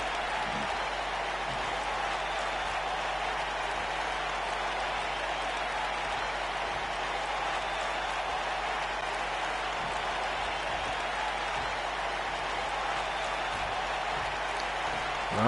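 A dense, steady roar of arena crowd applause and cheering in the WWE 2K19 wrestling video game, a continuous wash of clapping and noise at even volume throughout with no break.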